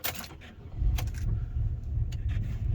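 A Chevrolet Impala with a 3800 engine, high mileage and a misfire, cranks and fires up; a brief starter whir gives way to a steady, close low idle rumble with a few clicks and rattles.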